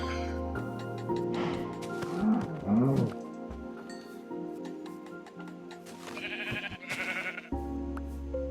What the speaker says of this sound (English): I don't necessarily want to kill a sheep for food.